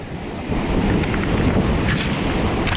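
Strong wind on a rocky seashore buffets the microphone with a loud, roaring rumble, while surf churns steadily in the background.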